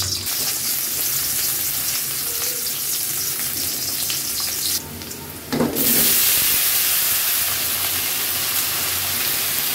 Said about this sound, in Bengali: তেলটা গরম হওয়ার পর পেঁয়াজ রসুন কাঁচামরিচ দিয়ে দিলাম।